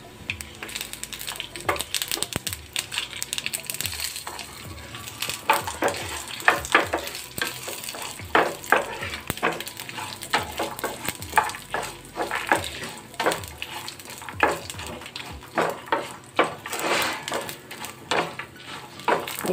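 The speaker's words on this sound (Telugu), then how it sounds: "వేగిపోయి వేరుశనగుళ్ళు ఎండుమిర్చి కూడా వేస్తున్నాను." Mustard seeds, cumin, peanuts and dry red chillies frying in hot oil, with rapid irregular crackles and pops over a steady close sizzle that persists throughout.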